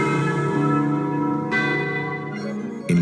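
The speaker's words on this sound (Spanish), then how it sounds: "Los encuentros podían hacerse al momento de las campanadas." Church bells ring out in a steady, resonant peal, their tones overlapping and sustained, loud and close with no voices.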